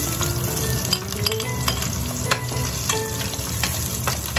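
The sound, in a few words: onions sautéing in hot oil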